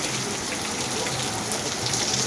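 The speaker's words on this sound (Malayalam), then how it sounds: "ഞാൻ നല്ലപോലെ മഴ നനഞ്ഞ് എൻജോയ് ചെയ്തുകൊണ്ടിരിക്കുവാണ്" Steady rain pours down outside the back of a building in a car parking area, a dense, even hiss of drops hitting surfaces, close and constant with no pauses.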